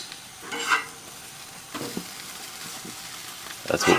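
Bourbon and brown sugar French toast flipped on a grill: scraping spatula strokes and soft sizzling in three short bursts over a quiet background.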